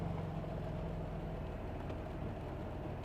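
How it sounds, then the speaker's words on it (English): A 1954 Chevrolet Corvette with a V8 engine idles in a low, steady rumble, even and unrevved, heard fairly quietly without talk. "Sounds like a great big V8."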